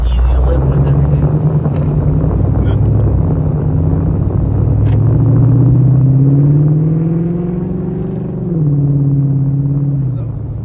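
Deep, loud rumble of a car V8 with a straight-pipe exhaust, muffler and resonator deleted, stock header, cat and H-pipe, idling and rising briefly in pitch before settling, with a voice talking over it.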